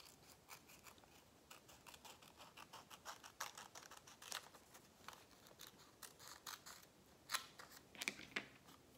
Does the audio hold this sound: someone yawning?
no